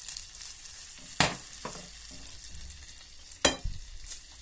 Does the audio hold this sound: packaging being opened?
no